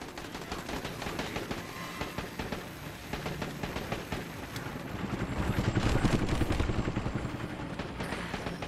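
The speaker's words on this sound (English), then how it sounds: "Wait, was that a helicopter?" Helicopter rotor chopping in the zombie game Dead Rising 4, a steady rhythmic thumping that swells louder midway, mixed with bursts of gunfire and dense game action, with no talk.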